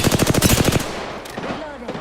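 Gunfire in the battle royale game Apex Legends opens with a loud, rapid automatic burst of about a dozen shots. Scattered fainter shots and noise follow.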